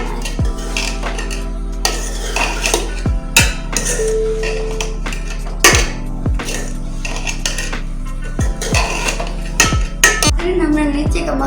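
A metal spoon scrapes and knocks against a pan again and again as masala for stuffed bhindi is stirred, with close, irregular clinks over a steady background hum.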